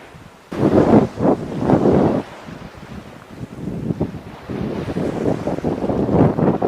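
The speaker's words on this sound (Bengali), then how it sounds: "সাগর পাড়ের অনেক সুন্দর বাতাস সেটা ইন্ডিয়ান অচেন বলা হয়" Strong wind gusting on a sea shore on the Indian Ocean in the Maldives, buffeting the microphone in loud rushing bursts with a steady surf-like roar underneath and no talk.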